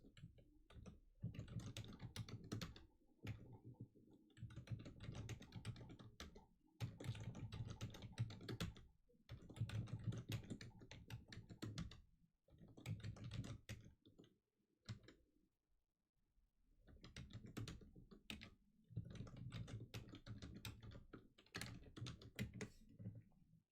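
Typing on a computer keyboard during a Magic: The Gathering Legacy game, steady bursts of clacking keys broken by short pauses, close and fairly quiet with no talking.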